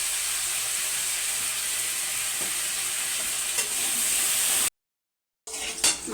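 Fish heads frying in hot oil with salt and turmeric give a constant, close sizzle and hiss that cuts out briefly, then resumes with a few stirring scrapes.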